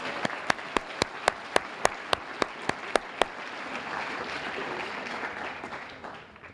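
An awards ceremony crowd applauds, with sharp, loud individual claps in a quick rhythm at first, then a softer, fading wash of clapping.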